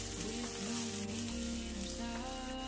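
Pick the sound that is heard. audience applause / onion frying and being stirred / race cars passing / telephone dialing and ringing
onion frying and being stirred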